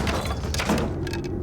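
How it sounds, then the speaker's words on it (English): A locked hotel room door in a sheetrock wall is kicked in at the handle, giving a heavy, close thud and crunch with a short rattle after the impact. "I just knew if I kicked it right at the handle"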